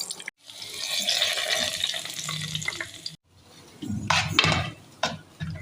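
Hot oil tempering with cumin and a fried dried red chilli poured over eggplant bajji, giving a loud hiss and sizzle, then a short pause and wet stirring and bubbling.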